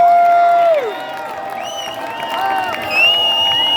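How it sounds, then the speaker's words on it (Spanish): An audience applauds and cheers for The Radions' encore at the Rockin Race Jamboree 2025 car show at Plaza Del Remo, with a steady crowd wash, scattered whoops and whistles, and a loud swell near the end. "Fuerte aplauso."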